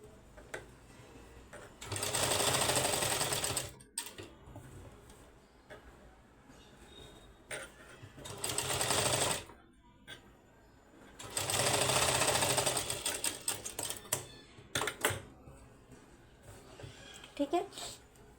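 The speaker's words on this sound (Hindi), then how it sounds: "यहाँ पर लगा देंगे हम एक एक सिलाई।" Electric sewing machine stitching the sleeves of an apple-cut kurti, running in several long bursts of a few seconds each separated by pauses, with someone speaking over the quieter stretches.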